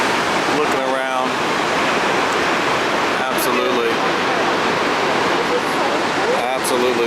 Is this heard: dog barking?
no